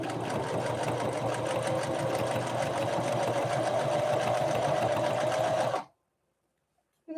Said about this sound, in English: So we're going to try going through it with a straight stitch